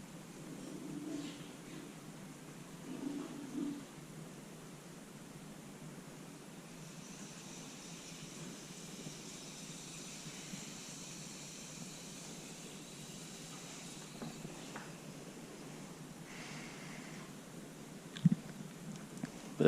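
A steady, soft broadband hiss from an Aeropress coffee maker being pressed continues for about twenty seconds, with faint bumps and a sharp click near the end.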